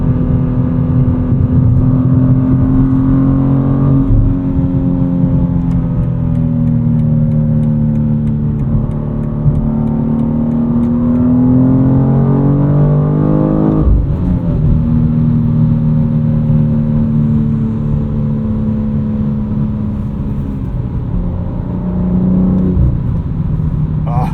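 A BMW S58 inline-six engine in a 2025 BMW M2 with a 6-speed manual accelerates hard and loud, its pitch rising through sweeps, dropping sharply at a gear change, then climbing again.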